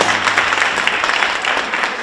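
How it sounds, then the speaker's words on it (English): Audience applause fills the room with steady, dense clapping from many hands, loud and sustained throughout with no voices on top. "Give yourself a round of applause."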